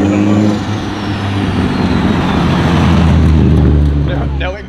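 A project car rolls and drives for the first time, its engine a loud, steady low rumble close by, swelling slightly before easing off, with people talking nearby.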